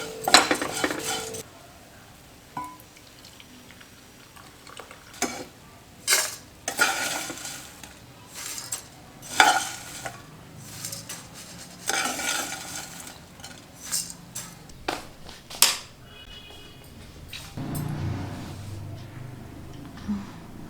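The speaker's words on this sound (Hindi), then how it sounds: "इसको हम इसमें अच्छे से पहले भूनेंगे" Flattened medium poha roasted dry in a pan while a metal spoon stirs it, giving repeated scraping clinks and knocks at an uneven pace, close and clear, with a faint sizzle near the end and no voices.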